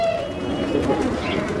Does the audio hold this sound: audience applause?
no